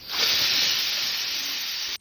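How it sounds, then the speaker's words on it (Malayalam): A kitchen pressure cooker lets off a hissing burst of steam through its whistle, a loud, close, steady rushing hiss lasting about two seconds before stopping abruptly. "നമ്മുടെ കുക്കർ വിസിലടിച്ചിട്ടുണ്ടായിരുന്നു കേട്ടോ"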